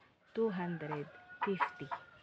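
Chickens clucking up close, a few short bursts of hen chatter with brief pauses between them.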